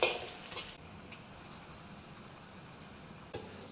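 Garlic slices frying in oil in a wok for a Cantonese Chinese broccoli stir fry, a soft continuous sizzle with faint stirring and a couple of light utensil clinks.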